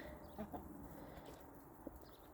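A rooster that has turned aggressive toward people gives a few soft, low, brief clucking calls during winter morning chores, faint and somewhat distant against quiet barnyard background.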